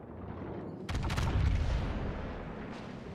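Heavy naval gunfire in World of Warships: Legends, a sudden loud boom near the one-second mark followed by a rolling, sustained low rumble that slowly fades.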